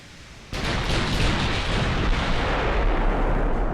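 Naval gunfire in the warship game Ultimate Admiral: Dreadnoughts, with a sudden heavy boom followed by a sustained, loud roaring rumble of battle.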